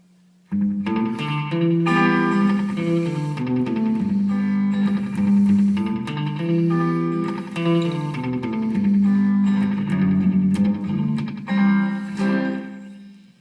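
A Harmony "Stratty" electric guitar plays sustained chords and single notes with a bright, clean tone and slight effects shimmer, continuous and fairly loud.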